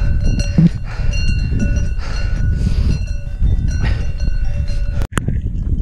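Cowbells clank irregularly from a herd of large cows on a mountain slope near Mont Thabor, several bells ringing at once over steady wind noise, fairly close, with a brief sharp knock near the end.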